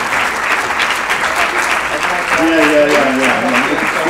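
An audience at a 2017 ISDM closing session claps for Nora in loud, continuous applause, with a voice speaking over it toward the end.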